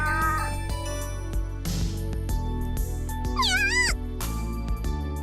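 A meow-like vocal sound from a visual novel video game, a short rising-and-falling cry heard over continuous game background music.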